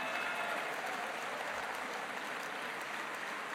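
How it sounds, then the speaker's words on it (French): Applause for Fabrice Leggeri at a French political rally, a large crowd clapping steadily, heard somewhat distant and uniform throughout. "Vous pouvez applaudir Fabrice Leggeri pour son courage."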